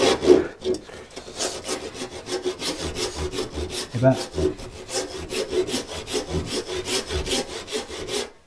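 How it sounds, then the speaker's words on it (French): A hand saw cuts through wood in steady back-and-forth strokes, each rasping pass close and distinct, with a brief spoken word at the start. "si je prends donc la scie que j'utilisais tout à l'heure pour faire le même type de travail"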